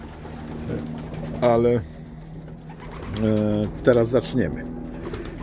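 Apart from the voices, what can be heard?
pigeons cooing in a racing pigeon loft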